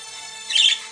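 Parrots and parakeets give a brief shrill squawking burst over a continuous high electronic ringing tone from a phone, lasting about half a second.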